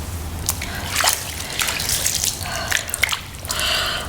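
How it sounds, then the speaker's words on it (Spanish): Water drips repeatedly at an irregular pace, individual drops splashing against a low, steady background hum with some soft trickling. "yo sigo despierta escuchando ese constante goteo"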